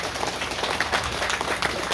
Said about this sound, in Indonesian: Tepuk tangan untuk Pak Ketum.